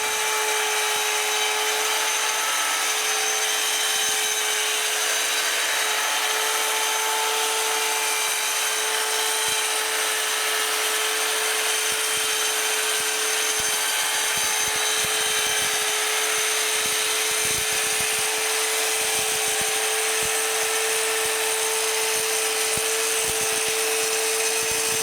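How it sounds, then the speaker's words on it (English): A power saw runs continuously for the whole stretch while making a straight cut along a clamped baseboard, a loud sustained whine with no voices. "just run the saw all the way to the end, which will hopefully get me a straight cut"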